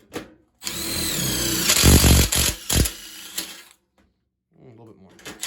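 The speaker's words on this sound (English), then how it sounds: "So we are going to drill for the first time, excuse me, a hole." A power drill bores a hole through the metal flue of a 35-year-old gas steam boiler, a loud sustained whine of about three seconds with brief pauses, then a short quiet gap before someone speaks.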